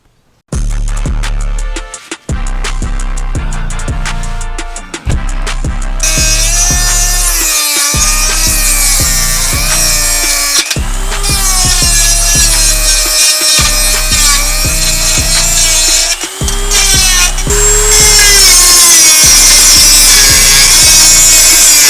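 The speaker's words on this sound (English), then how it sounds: "we're gonna have to shave it off with the Dremel" A Dremel rotary tool grinds down the window pocket of a Jeep JL track bar mount, very loud and close, in repeated strokes of harsh whining abrasion with short pauses between passes, the pitch rising and falling under load.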